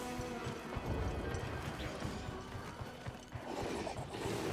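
A horse in the video game Monster Hunter Wilds clip-clops along with a steady, busy run of hoof beats, fairly close and loud, with some clattering game noise mixed in.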